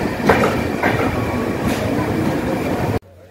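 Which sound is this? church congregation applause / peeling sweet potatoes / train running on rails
train running on rails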